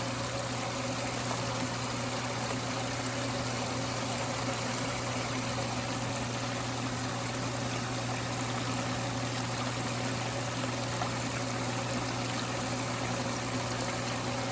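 Water pumped through a mini highbanker runs steadily with no dirt added yet, a continuous close wash of trickling, bubbling flow over a constant low motor hum for the whole stretch.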